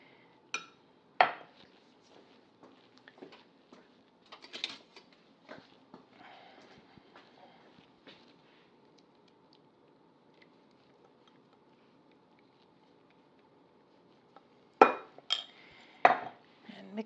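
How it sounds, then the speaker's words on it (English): A spoon clinks and scrapes against a bowl while lumpy brown sugar is stirred, faint scattered taps with a few sharper knocks at the start and end and quiet gaps between. "My brown sugar was a little bit on the lumpy side, so I'm giving it an extra bit of a stir here."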